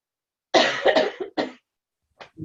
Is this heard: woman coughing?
yes